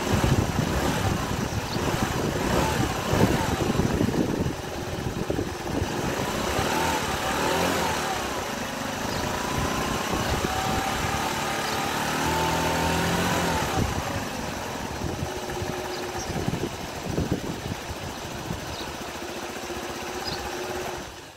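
Kisbee scooter engine starts and settles into a steady, fairly quiet idle, a continuous mid-pitched buzz with slight irregular sputters, heard alone without talk.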